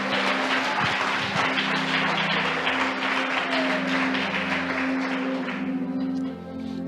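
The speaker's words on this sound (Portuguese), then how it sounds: "Uma salva de palmas para Jesus." A church congregation claps together in a thick, sustained wash of applause with a steady hum running underneath, fading out near the end.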